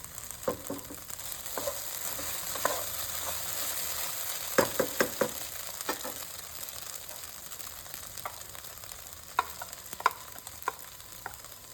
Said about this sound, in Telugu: ఇప్పుడు బెండకాయ ముక్కలు బాగా ఫ్రై అయ్యాయండి